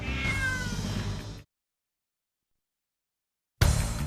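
Cat meowing: a single plaintive meow, clear and close, followed by total silence, then a second loud burst of cat sound at the end.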